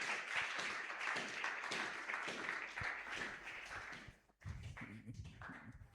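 A church congregation at a Sunday worship and thanksgiving service applauding, a dense, sustained crowd of clapping hands that breaks off briefly, then resumes with a voice speaking over it.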